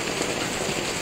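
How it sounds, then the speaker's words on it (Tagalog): Heavy rain pours down steadily at a small shop in Deca Homes, Meycauayan, where the roof has no gutter, a dense, continuous hiss of drops hammering a surface with no break. "sobrang lakas ng ulan"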